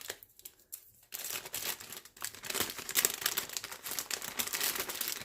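A plastic bag of oats, taped shut, is handled up close, giving bursts of crinkling and rustling that start after a short quiet gap and continue in irregular clusters, fairly soft, with no talking.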